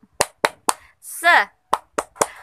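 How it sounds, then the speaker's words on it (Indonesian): A single person performs a rhythmic spirit clap in an online lesson: three sharp hand claps, a brief chanted vocal, then three more claps, close and loud. "Oh, kita tepuk semangat dulu deh. Tepuk semangat"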